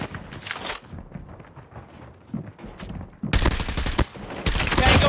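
Gunfire in the mobile shooter Call of Duty Mobile: scattered shots and short bursts, then two dense, loud volleys of rapid automatic fire near the end.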